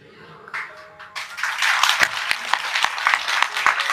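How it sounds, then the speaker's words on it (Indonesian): An audience at a speech breaks into applause that builds after a brief, delayed pause, with a steady patter of clapping from many hands. "Ini tepuk tangannya delay deh."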